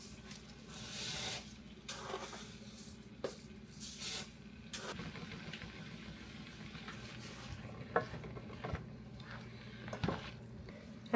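Vegetables coated in olive oil simmer in a pan, a quiet steady sizzle and hiss with occasional louder spits and soft kitchen clatter, faint and without talk.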